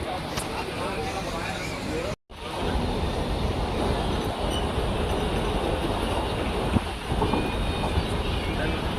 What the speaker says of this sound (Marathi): आता ट्रेन झाले चालू